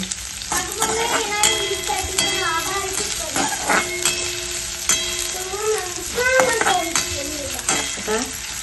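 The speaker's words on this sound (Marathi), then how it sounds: "आता कांदा फ्राय करून घेते" Chopped onion frying in a pan gives a loud, steady sizzle close by, with utensil scrapes and clinks repeating throughout.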